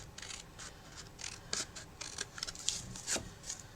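Scissors snip paper for a small gift notebook, a quiet close series of quick crisp cuts, roughly a dozen short slices in an uneven rhythm.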